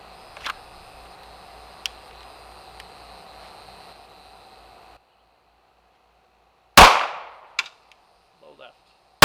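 Ruger Security 9 pistol firing 9mm rounds at a range: a few sharp distant reports early on, then a single loud close crack followed by smaller knocks and clatter.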